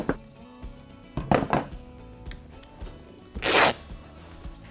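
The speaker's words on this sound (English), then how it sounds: "So I'm going to cut this all." Scissors cut through fabric for a fringed cushion, giving a few short crisp snips and one longer rasping cut near the end, close by with no talk.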